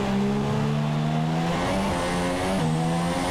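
Formula 1 race car in the F1 2017 game at the Singapore Grand Prix, a loud, steady high-revving engine whine that shifts pitch as the car passes close by, with no talk over it.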